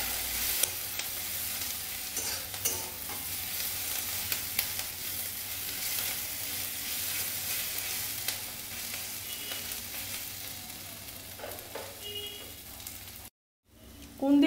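Ivy gourd (kundri) fries with onion and poppy seed in a pan, giving a continuous loud sizzle with occasional stirring scrapes, then a brief cutoff and a loud clatter at the very end.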